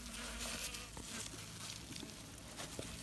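Dense, continuous buzzing of many drone bees inside a tulle bag, close and steady, with faint rustling and soft taps underneath.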